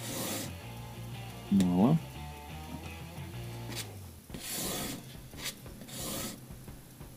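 A blade is rubbed against a stone on a sharpener for knives, scissors, chisels and plane blades, making scraping, rasping strokes while someone speaks briefly.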